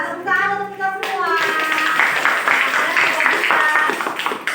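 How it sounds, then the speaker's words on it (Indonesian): Clapping from a classroom of children fills the room for several seconds, a steady run of hand claps with children's voices talking and calling over it, loud and close. "Tepuk tangan untuk kita semua."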